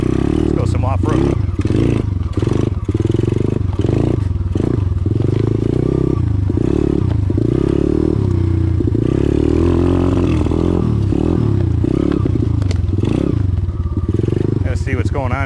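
A DB Tao pit bike engine revs loudly and close off-road, rising and falling in repeated throttle blips over a constant rattly idle, with someone talking over it at times.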